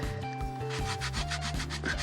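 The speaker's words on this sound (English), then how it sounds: "I'm rotating this like this as I'm sanding that" Steady hand sanding of a small part as it is rotated, a continuous close rubbing rasp with rhythmic strokes and faint motor-like hum beneath.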